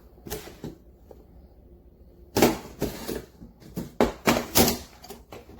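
Flimsy black plastic stackable shoe organizer box handled on a table, giving a string of sharp, hollow clacks and rattles in irregular bursts, quiet at first and then louder and more frequent, with no talking.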